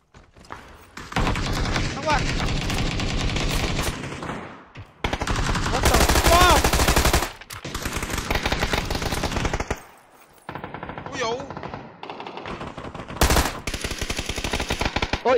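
Tommy gun bursts in PUBG, loud rattling automatic fire in several separate volleys with short pauses between them, and a voice talking over parts of the shooting.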